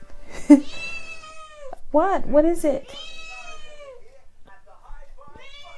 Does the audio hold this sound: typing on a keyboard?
no